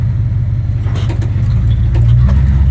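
A 1971 Dodge Mighty Mite short school bus labours up a mountain road toward a dump. Its engine gives a steady, low, rumbling drone close by, with a few faint rattles over it.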